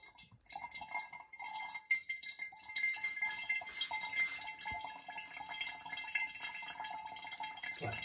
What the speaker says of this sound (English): So I've got a muslin bag over my funnel going into my demijohn to catch any little bits of debris that are still in the liquid.